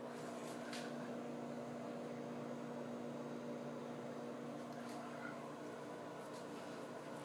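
A microwave oven runs while heating a s'more, giving a steady, even hum with a constant tone and no pauses for the whole stretch.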